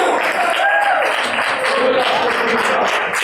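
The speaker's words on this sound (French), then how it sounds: "sous vos acclamations" Audience applause greets a medical doctor introduced on stage at a UNICEF digital-programme panel, a loud, steady wash of clapping lasting throughout with some voices over it.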